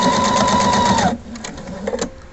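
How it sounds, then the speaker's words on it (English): A sewing machine with a piping foot runs steadily for about a second while stitching piping onto fabric, then stops, leaving a few soft clicks and handling sounds close by. "stitch the piping to the fabric with your piping foot"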